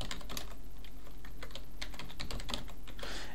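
Rapid, irregular clicks of a computer keyboard as a password is typed on an old PC being set up as a server, close and fairly steady, with no talking.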